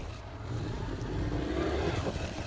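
A dirt bike engine revving, a steady low rumble that rises slightly in the middle and holds, moderately loud with no talking over it.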